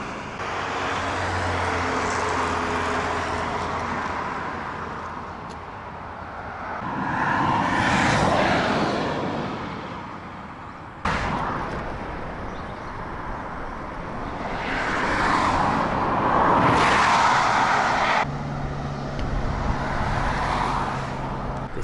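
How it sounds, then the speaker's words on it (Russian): Cars driving past on a quiet rural road in the Altai Republic, two vehicles swelling up and fading away in turn over a steady outdoor background, with no talk. "Где никого нету, только машины ездят."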